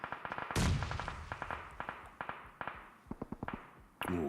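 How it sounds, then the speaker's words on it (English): Gunfire in a PUBG Mobile esports match at the 2023 Global Championship: a string of sharp, punchy shots in quick bursts, with one heavier, longer blast early on and another near the end, mixed with fainter distant cracks. "Ooh, a couple of pot shots."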